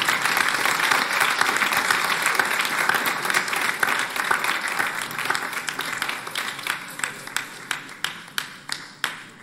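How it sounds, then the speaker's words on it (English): An audience at an anniversary concert applauds loudly, the full crowd clapping thinning into a few isolated, rhythmic hand claps toward the end. "I think we can give BC another round of applause."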